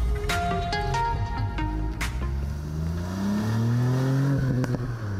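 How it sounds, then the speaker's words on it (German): A Ford Fiesta ST's three-cylinder engine revs and pulls up through the range, its tone rising steadily, close and loud over constant road and cabin noise. "Der Dreizylindermotor unter der Haube ist der nächste konsequente Schritt in Fords"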